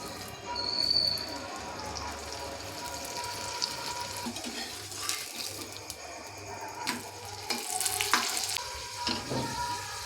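Coconut parathas fry in a pan with a continuous low sizzle, broken by intermittent clinks and scraping sounds from the cookware.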